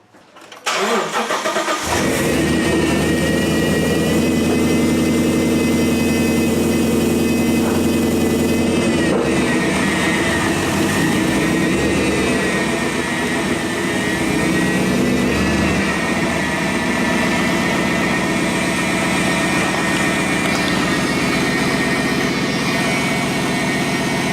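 A single-cylinder motorcycle engine turns over and catches within a couple of seconds, then runs at a loud, steady high idle with its sensors unhooked for a long stretch, close and uninterrupted.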